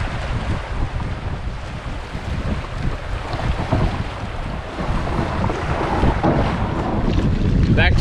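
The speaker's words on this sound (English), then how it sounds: "Making no headway against this wind on the Moose River." Strong wind roars across the Moose River, buffeting the microphone with a constant heavy rush and splashing of small waves, no voices.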